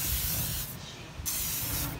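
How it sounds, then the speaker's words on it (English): Cooking spray hisses from a can onto barbecue beef ribs in two steady bursts with a short pause between, close and fairly quiet, no talk. "Spray it all down."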